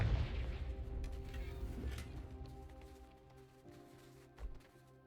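A Confringo fire spell blasts in Hogwarts Legacy with a loud, boomy burst, followed by rumbling game effects and a sharper thump near the end.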